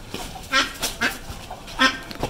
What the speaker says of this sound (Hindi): ये हमारी फ्लाइंग डक है